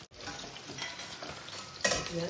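Onions sautéing in a pan for fish curry in a home kitchen, a close steady sizzle with stirring scrapes and a sharper clatter of the spatula near the end.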